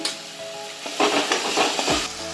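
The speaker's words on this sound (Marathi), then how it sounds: "मस्त हा मसाला परतून घेऊया खमंग असा" Masala with asafoetida and leaves sautéed in a pan for Mumbai vada pav, a soft close sizzle with a few spoon scrapes and stirring bursts in the middle, no talking.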